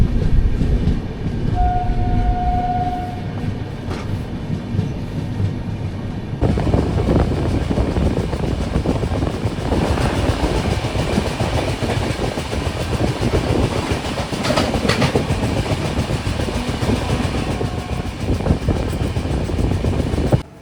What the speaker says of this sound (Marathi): म्हणून तर ट्रेन हळूहळू चालले आहेत.